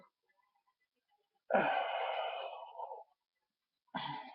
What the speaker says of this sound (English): Big stretch. Big yawn.